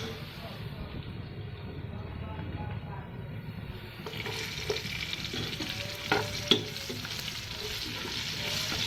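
Vegetables are stirred in a frying pan before green chillies are added, a continuous sizzle with scraping and clattering strokes of the spatula that grow busier partway through, close by with no talk.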